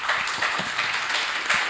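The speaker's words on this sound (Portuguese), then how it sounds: "E vamos bater palmas." An audience at a university archives event claps, a dense patter of many hands at a moderate level, continuous and without speech.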